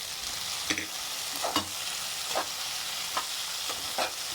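Ginger and garlic fry in a pan, giving a steady sizzle with several short scraping stirs of a spoon at irregular intervals, close and moderately loud, with no talking.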